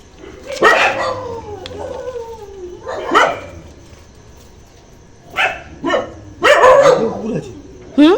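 Rescued local street dogs bark close and loud in scattered bursts, mixing sharp barks with yips and a whimpering whine, with quieter gaps between them.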